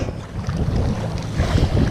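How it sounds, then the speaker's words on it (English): A kayak being paddled through waves on the Pacific Northwest coast, with steady gusting wind buffeting the microphone over rushing, sloshing water that swells louder toward the end. "Continue paddling through the wave."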